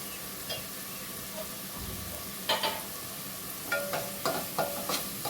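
Chopped onions with salt, turmeric and chopped tomato fry in a pan for keema pulao, a soft steady sizzle under repeated sharp scrapes and clinks of a spatula stirring.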